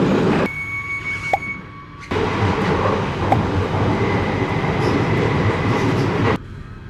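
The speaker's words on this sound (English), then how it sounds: "Train are ready to depart." Train departing a station, a steady loud rumble of rolling wheels and motors with a brief high whine near the start, continuing for several seconds before cutting down.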